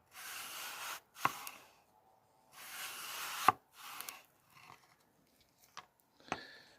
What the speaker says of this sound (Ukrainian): Беремо яблучко і також тонесенькими скибочками, без зусиль нарізаємо